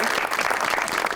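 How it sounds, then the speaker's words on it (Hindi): Studio audience applause on the Pakistani TV show Super Over, a dense, steady burst of many hands clapping at close range, filling the whole brief moment without pause. "उनके लिए जोरदार तालियां"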